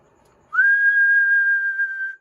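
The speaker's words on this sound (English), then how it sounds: "I'll do the normal everyday whistle." A single steady whistle note held for about a second and a half, clear and fairly loud, slightly tinny, whistled into a standard microphone on a GE CB radio.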